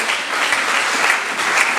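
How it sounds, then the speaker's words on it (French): A church congregation cheers loudly for the Lord: steady, dense applause and crowd noise from a gathered assembly, sustained at full strength throughout with no distinct voice standing out. "Est-ce que quelqu'un peut acclamer très fort pour le Seigneur?"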